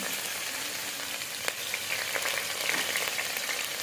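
Chopped garlic frying in hot oil left over from frying Manchurian balls, a steady broadband sizzle with a few small crackles and pops, moderately loud and continuous.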